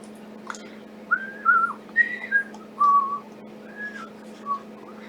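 Someone whistles a tune close to the microphone, holding clear sustained and sliding notes in a slow, unhurried melody over a faint steady hum.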